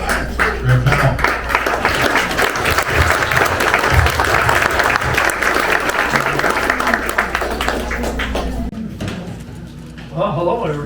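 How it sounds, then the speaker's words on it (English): A History Center audience at a live tribute concert gives sustained, dense applause for several seconds before it thins out and fades, with voices mixed in. "give him a big round of applause"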